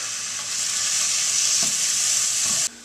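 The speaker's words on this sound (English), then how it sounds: "I've got 2 onions chopped and ready to go in the oil, so I'm going to go ahead and dump them in" Chopped onions sizzle loudly in hot oil in a cooking pot, a steady bright frying hiss that swells after they drop in and is stirred, then cuts off abruptly near the end.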